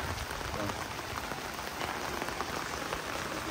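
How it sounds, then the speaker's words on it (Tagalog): Heavy rain pours steadily onto an outdoor basketball court, a dense, continuous hiss of drops spattering on the surface with no pauses. "Ulan kasi nung malakas ngayon dito."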